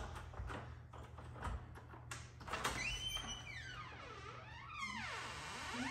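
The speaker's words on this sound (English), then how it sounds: "you have to close it, you have to kind of like push it so that it stays" An old garage door is pushed shut, giving off a few knocks and thunks followed by long scraping, squealing glides as it slides along its track, close and moderately loud.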